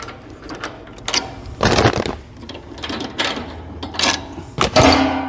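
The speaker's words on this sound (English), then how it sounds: "Air pressure over the top is going to push down that softened film and form it into the pocket of the mold" A roll stock packaging machine uses air pressure to press softened plastic film down into the pockets of its molds. Loud, uneven bursts of mechanical clatter and hissing air repeat over a few seconds, with no voices.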